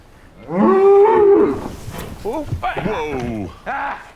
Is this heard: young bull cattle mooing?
yes